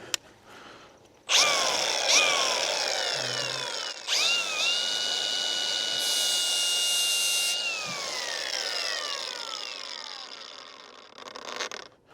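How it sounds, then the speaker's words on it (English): An angle grinder fitted with a 60 grit flat disc runs up to a loud, high whine and drops in pitch as it bites into a mower blade during sharpening, in several close, long passes. "this is my setup right here, an angle grinder, and I have a 60 grit flat disc"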